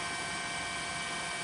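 News helicopter flying over the tsunami-stricken Sendai area of Miyagi Prefecture, Japan, giving a steady, continuous drone of rotor and engine noise that stays even throughout, with no voices.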